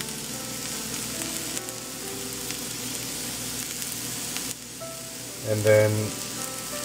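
Red onions sizzle steadily in a hot pan for a mix of omelette pizza on a potato crust, a continuous close frying hiss with a brief louder flare near the end and a few spoken words.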